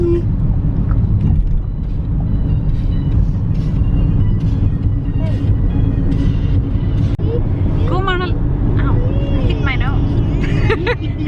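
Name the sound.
car interior while driving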